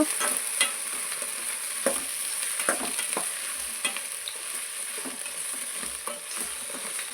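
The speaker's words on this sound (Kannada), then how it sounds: "ಇದ್ರ ಲೋಳೆ ಎಲ್ಲ ಹೋಗೋವರೆಗೂ ಚೆನ್ನಾಗಿ ಫ್ರೈ ಮಾಡ್ಕೋಬೇಕು" Okra fries in a pan, a steady soft sizzle with occasional stirring scrapes and taps, close and alone with no voices.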